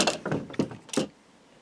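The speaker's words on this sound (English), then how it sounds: "So we've just taken our clamping cauls off" Clamping cauls come off a glued neck during a custom Les Paul guitar build, giving four quick knocking clunks in close succession, near and fairly loud, before quiet settles.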